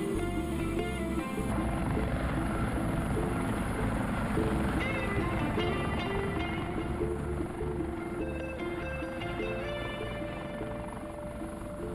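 A training helicopter drones on throughout with a constant rotor and engine roar, steady and loud, and pitch shifts suggest it sways while flying.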